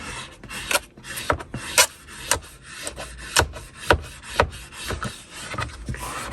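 Soft, flexible squeegee smoothing 3M vinyl wrap over a Tesla Model 3 / Model Y center console, with repeated short rasping strokes in an uneven rhythm, close and fairly clear, no talking.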